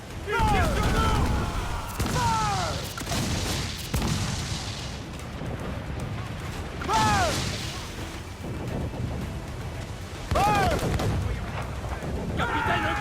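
Ship cannons fire broadsides in the naval game Assassin's Creed IV, heavy booms repeating every few seconds amid battle noise, with crew voices shouting over them.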